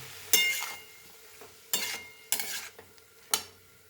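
Green chillies dropped into hot oil and stirred in a pan, giving short bursts of crackling sizzle with metal scraping, four distinct stirring strokes over a low steady frying hiss, close by and without speech.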